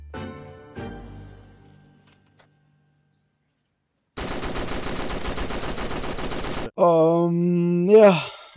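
Sustained burst of automatic gunfire in Roblox Fallen Survival, a dense rapid stream of shots lasting a couple of seconds after near silence, followed by a loud tonal groaning sound.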